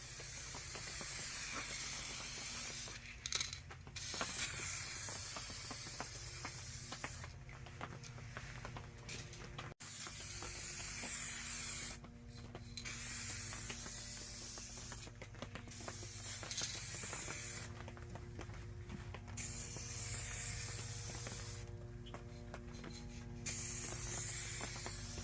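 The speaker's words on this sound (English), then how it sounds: "So I did just a dusting at first, and it's something to just kind of get the paint started to sticking" Spray gun laying paint on the bumper trim strip of a 1989 Mercedes-Benz 190E, a steady airy hiss in repeated passes, each several seconds long, separated by brief quieter gaps, close by and with no talk.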